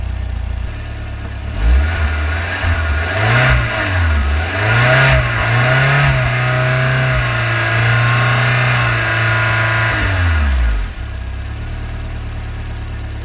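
A Toyota Previa minivan engine is revved repeatedly, climbing and falling in several rising surges before settling back to a steady idle, loud and close.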